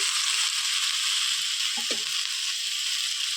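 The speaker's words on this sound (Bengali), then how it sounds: "এবার আমি এতে কচি পাঠার মাংসগুলোকে দিয়ে দেবো" Young goat mutton pieces dropped into a hot pan with turmeric for a Bengali mutton and potato curry, giving a steady, even sizzle throughout with a brief louder stir or shift of the meat partway through.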